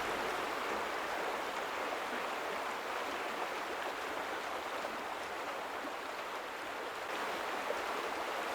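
Flowing stream water in a video game, a steady, even rushing wash of broadband noise that holds unchanged throughout, fairly loud and close, with no voices.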